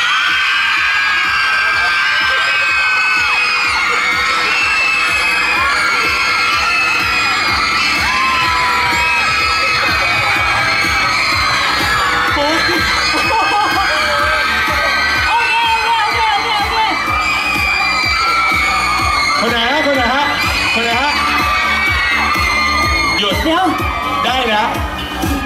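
A crowd of fans screams and cheers continuously at an expo stage show in Hat Yai, loud and dense with high-pitched shrieks and whoops throughout, with no break in the noise.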